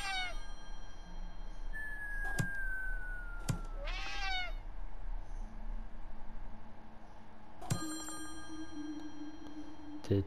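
A cartoonish cat in the video game Slayaway Camp meows a few times amid sharp chime and clank effects, the yowls rising and falling clearly over a low musical hum, with no voices.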